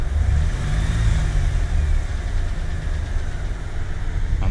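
A Chevrolet Camaro 3.8L V6 in a fourth-generation body runs close and loud with a steady low rumble, swelling slightly under light throttle and then easing off as it decelerates.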